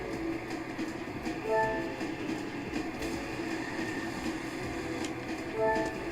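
A train passes in a car racing video game, a steady rumbling clatter with brief tonal horn-like notes early and late, and no voices.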